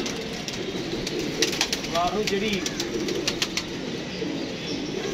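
Pigeons cooing faintly over a steady outdoor hum, with a few soft wing flaps and scattered clicks, while people talk nearby in Hindi.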